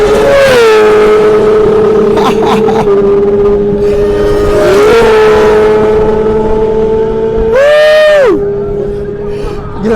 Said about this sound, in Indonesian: lo harus dengerin nih suara pure sound dari motor 600 cc.